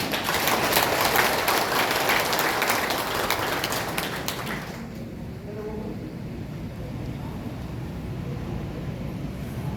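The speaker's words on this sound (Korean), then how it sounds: "힘찬 박수로 환영해 주시기 바랍니다." Loud applause from the crowd at a campaign office opening for a Goseong county candidate, dense clapping for about five seconds that cuts off abruptly, leaving quiet room noise.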